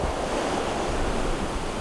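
Rough sea waves surge and roar continuously in broadband noise with wind buffeting the microphone, loud and close throughout the short stretch, with no talking.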